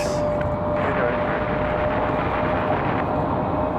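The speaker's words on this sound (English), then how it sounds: "Got an E175 starting up just below us" An Embraer E175 jet starting up just below the viewpoint at Raleigh Durham airport, a steady close roar with a rising whine, loud and continuous throughout, with no talking.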